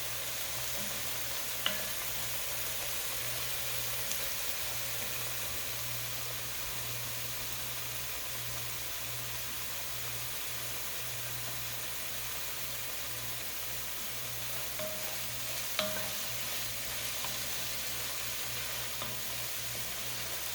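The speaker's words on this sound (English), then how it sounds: "let this saute till the onions and the celery kind of go a little limp or translucent" Onions and celery sautéing in a pan for green chili, a faint, steady sizzle over a low hum, with a couple of soft utensil clicks.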